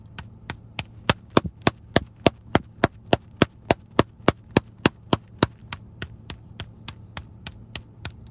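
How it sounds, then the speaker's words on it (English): Hand drumming struck with the ball of the hand on a surface, a steady even stream of sharp close taps at about three per second, loud, over a low background hum. "Then like the ball of your hand."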